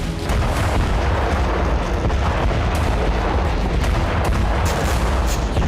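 Russian artillery bombardment on Ukraine's eastern front line makes a dense, continuous roar of booms and blasts, loud and unbroken throughout with no voices.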